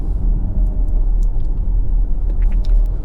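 An Audi e-tron electric car in dynamic mode accelerates with a steady low road and tyre rumble and a faint thin motor whine, heard from inside the cabin.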